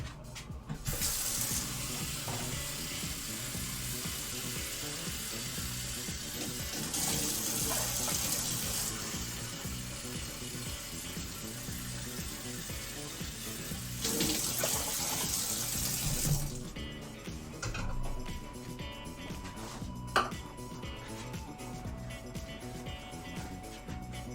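Water runs from a tap in bursts into a pot being filled for pickling brine, a loud gushing stream starting and stopping three times, then quieter kitchen clatter.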